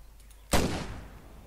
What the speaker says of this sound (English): We should be going to that explosion and not my shooting.